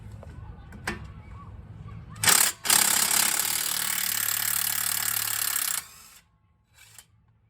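An impact wrench loosens bolts on the CV axle of a 2011 Buick Enclave, a close, loud, buzzing hammering burst lasting a few seconds after a brief start, with a few clanks around it.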